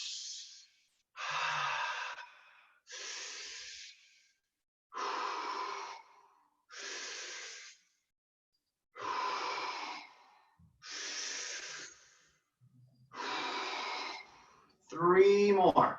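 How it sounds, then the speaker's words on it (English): Deep, slow breaths in a guided breathing exercise: eight long, forceful airy exhalations in a steady rhythm, each separated by a short pause, close and clear, ending with a brief rising vocal sound. "enjoy your breathing. Like you're smiling and pushing that air through your body."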